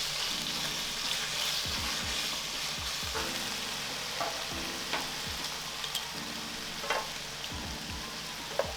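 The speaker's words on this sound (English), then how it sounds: "brown the meat a little bit and then I'll cook the veggies so I can get a little bit of that, of the fat from the beef rendered into the pan" Beef browning in a pan with a little too much oil, a steady loud sizzle and crackle with occasional stirring scrapes, close and continuous with no talk.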